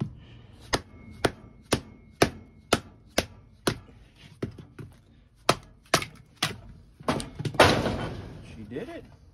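A Buck 119 knife is hammered through a knot in wood with about a dozen sharp, evenly spaced near blows, then a burst of splitting and crackling wood at the end.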